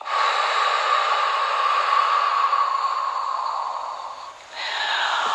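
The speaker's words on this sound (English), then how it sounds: "Hold at the top and exhale for a 5 count." A deep breath in a breathing exercise, one long, loud airy inhale and exhale close by with a brief pause near the end, no talking.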